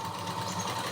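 A sewing machine stitches cloth in a tailoring setup, giving a brief, steady mechanical whir with a fast needle rhythm at moderate volume.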